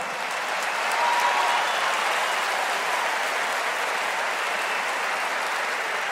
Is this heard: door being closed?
no